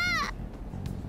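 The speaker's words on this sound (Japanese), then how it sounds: "猫の声には敏感でね。" Short cat meow from the Persona 5 Strikers video game: one rising, whining call lasting about a third of a second, clear and close over a low background rumble, then quiet.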